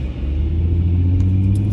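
A bus engine rumbling steadily up close, a deep continuous low drone with a faint rising rev toward the end and no voices over it.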